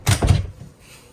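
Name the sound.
shower door sliding shut in a Swift Voyager 510 caravan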